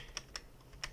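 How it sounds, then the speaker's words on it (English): Keystrokes on a computer keyboard, three quiet separate clicks spaced unevenly within a second over faint room hiss. "I don't even know what I'm typing"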